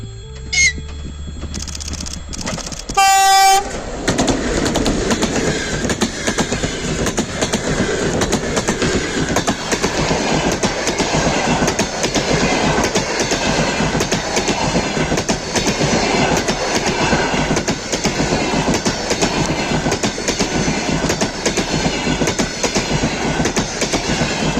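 A passing train hauled by a passenger diesel locomotive, loud and close, with steady clickety-clack of wheels over rail joints and a continuous rolling rumble, preceded by a brief horn or signal tone.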